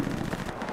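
Rapid rattling machine gun fire in a multiplayer war shooter game, a steady stream of quick bursts at moderate distance with no pauses.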